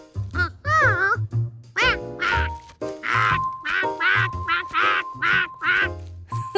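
A cartoon monkey voice imitating a duckling's quacks, a run of nasal quacking calls in bursts, close and loud, with childlike vocal babble woven in.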